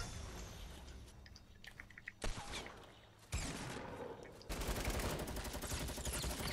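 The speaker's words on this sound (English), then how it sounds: "Okay, everyone, make sure you use the light machine gun." A light machine gun fires in Fortnite Battle Royale in rapid, dense bursts that grow louder and more continuous toward the end, heard at low overall volume.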